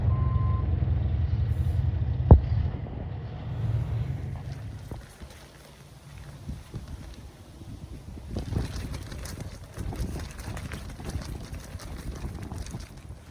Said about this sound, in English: they're dumping I think some gravel or something on the road up there.